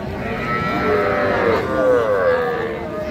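Calves and young cattle at a livestock market in Raniganj, low drawn-out moos rising and falling over about three seconds, loud and close, with faint crowd murmur behind.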